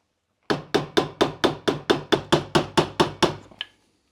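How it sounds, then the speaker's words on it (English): A hammer drives a chisel against a metal suspension bushing ring on a BMW M3 Competition, giving about twelve sharp, evenly spaced metallic strikes. The blows ring close and loud, then stop. "We're gonna do that by chiseling it away."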